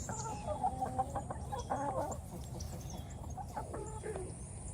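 Several chickens cluck and call in a loose, irregular chatter at moderate distance, with a few short bursts standing out over a low rumbling outdoor background on a field.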